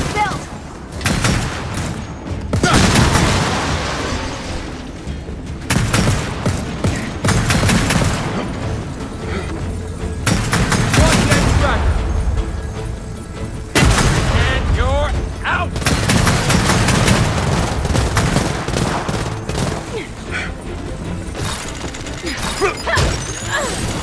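Sniper and weapon fire in the video game Gears of War 4, loud bursts of shots and impacts coming in repeated waves with short pauses, layered with mechanical clatter and game combat noise.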